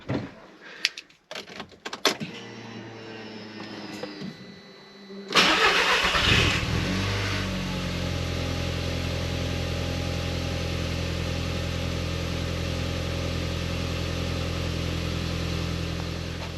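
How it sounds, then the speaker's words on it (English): A few clicks and knocks, then an Audi TT Mk1 1.8T engine cranks after a crankshaft position sensor replacement, catches and settles into a steady, even idle that runs on alone. "So let's just start the car up to make sure it works."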